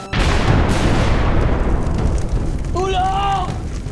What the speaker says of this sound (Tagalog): may sumabog ng malakas.